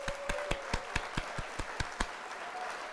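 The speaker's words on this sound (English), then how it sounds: "while I hit the applause" An applause sound effect played on a livestream: evenly spaced, crisp hand claps repeating about four times a second, moderately loud over a faint steady background.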